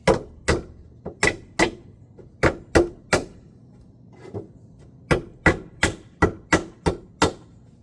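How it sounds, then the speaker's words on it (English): A hammer knocking a nail back into wooden deck railing, sharp close strikes in irregular bursts, a few spaced blows and then a quick run of about eight evenly spaced hits. "nailing it back in"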